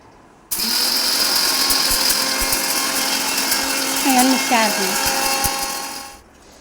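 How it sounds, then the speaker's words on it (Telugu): A kitchen mixer grinder grinds tempering spices for a coriander-tomato chutney, a loud steady motor whine running nearly six seconds, pitch dipping briefly near the end before it cuts off. "పోపులు మిక్సీ ఆడేసుకుంటున్నాను"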